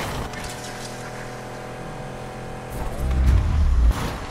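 A Lamborghini Countach racing car engine in Need for Speed Unbound hums steadily, then swells into a louder, deeper roar as the car accelerates near the end.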